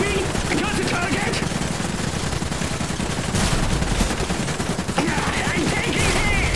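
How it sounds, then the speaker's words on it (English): Battle gunfire in the dieselpunk strategy game Iron Harvest, a dense, continuous crackle of rapid shots mixed with a sustained roar, loud throughout with a couple of sharper bursts. "I'm receiving fire!"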